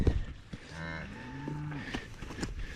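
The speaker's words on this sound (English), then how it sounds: "kicking this cow and calf out" On a farm in southwestern Indiana, a cow lets out a long, drawn-out moo up close, with some shuffling and a brief thump at the start.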